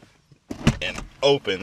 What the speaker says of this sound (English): So normally the door just opens like this and we pull it shut